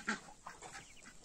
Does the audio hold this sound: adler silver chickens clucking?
yes